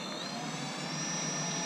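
A small drone motor spins with a steady high-pitched whine and airy rush, held fairly constant and close as the throttle is nudged during a flight controller setup test.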